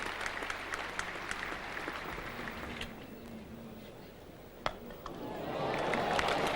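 A cricket crowd claps for Australia reaching 100 runs during a 1981 England versus Australia Test, soft spread-out applause from the stands with a commentator talking over it and a sharp knock partway through.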